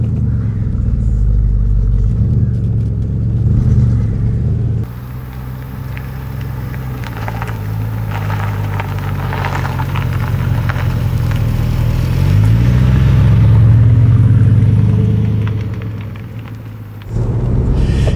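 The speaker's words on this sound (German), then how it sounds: "Drückt man, da ist der Startknopf. So. Das ist mal ein Sound. Der hat hier vorne Sidepipes." A 2008 Mercedes SLR McLaren Roadster supercar fires up and revs through its front-exit sidepipes, a loud close engine rumble that swells and rises in pitch toward the end before cutting off.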